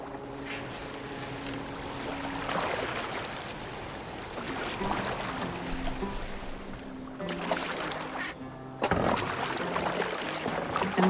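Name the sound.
Viking boat on water in Assassin's Creed Valhalla video game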